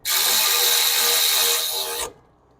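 Power tool runs hard and continuous for about two seconds, driving caliper bracket bolts tight on a car during brake work, then stops abruptly.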